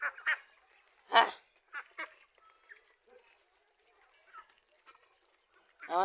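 Ducks on a small farm give scattered loud quacks and honking calls in short bursts, with quieter calls and faint voices between them.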